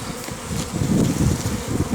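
Dense, close buzzing of many honeybees in an open hive, a steady low hum that swells slightly midway with no voices.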